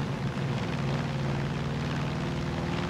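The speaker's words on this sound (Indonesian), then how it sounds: "Aduh, ada pesawat orang ya." A propeller airplane drones steadily overhead in the video game Far Cry 5, a continuous low rumble holding at an even, fairly loud level throughout.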